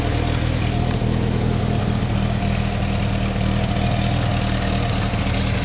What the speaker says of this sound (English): Engine runs strong.